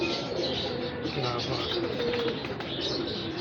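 A flock of pigeons coos and murmurs nonstop, nearby and fairly soft, with a man's brief remark over the birds.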